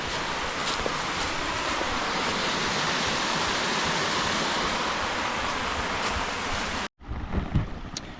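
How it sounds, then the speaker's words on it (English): A breathtaking East Tennessee backcountry waterfall on a brook trout stream roars with steady, loud rushing water, then cuts off abruptly near the end to a quieter outdoor rustle. "Just a breathtaking waterfall."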